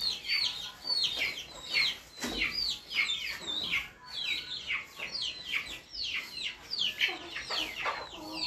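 Hens and half-grown chicks cluck and peep in a busy, overlapping chorus of short repeated calls close by, with bursts rising and falling throughout.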